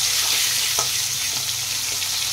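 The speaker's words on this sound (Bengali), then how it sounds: "খুব বেশি ভাজবো না, হালকা করে ভাজবো" Fish fries gently in a pan of oil, an even close sizzle with faint crackles and a few soft stirring knocks, no voices.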